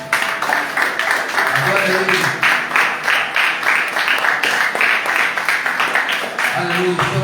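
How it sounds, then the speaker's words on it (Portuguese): Church congregation applauding the Lord during a Portuguese-language worship service, a dense, steady wash of clapping that runs throughout while a voice keeps speaking over it. "Levante a aplaudir ao Senhor, queridos."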